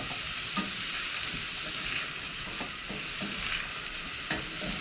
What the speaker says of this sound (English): So in goes my garlic. Just want to cook that off a little bit.